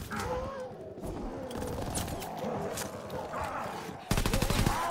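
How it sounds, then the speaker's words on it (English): Rapid MG15 machine gun bursts in a Call of Duty WWII zombies match, dense sustained firing throughout with a sharper, louder burst near the end, mixed with game effects. "I'll mow them down. MG15 is beast."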